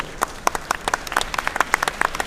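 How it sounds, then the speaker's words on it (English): A short round of applause from a panel audience at a hardware business discussion: sharp, distinct claps from a modest group, close and uneven, with no talk over them. "Round of applause for these wonderful prototypers"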